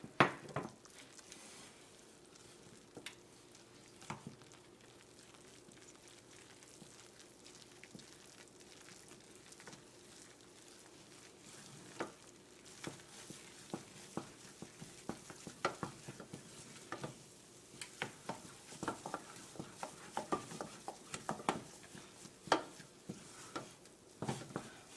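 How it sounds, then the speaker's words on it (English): A spoon stirring a cup of flour into boiling water and butter to form choux dough for eclairs, giving quiet, irregular scraping and soft sizzling that grows busier and more clattery as the stirring goes on, with no talking. "now we're going to add 1 cup of flour and stir this until a ball forms"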